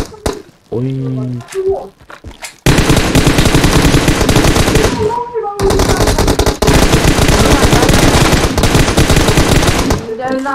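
Rapid automatic gunfire from PUBG Mobile erupts loudly after a short lead-in, sustained bursts of shots rattling almost continuously with a brief pause midway.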